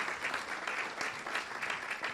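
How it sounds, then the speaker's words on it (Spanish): Steady applause from a church congregation during a Spanish-language Sunday service, a dense continuous wash of many hands clapping at close range with no talk over it. "Un aplauso a Cristo primeramente."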